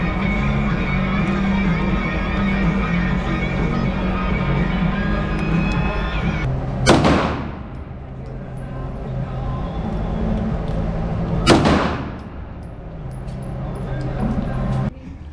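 Two sharp, loud real gunshots from a firearm cut through a steady hum of background noise, spaced a few seconds apart, each followed by a brief decay.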